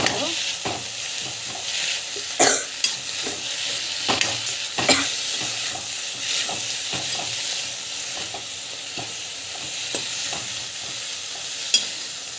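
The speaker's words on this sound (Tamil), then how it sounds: "கொத்தமல்லி புதினா ஸோ நல்லா வந்து வதக்கிட்டு" Coriander and mint leaves sauté in oil in a pan, giving a steady close sizzle broken by scraping stirring strokes, with no one speaking.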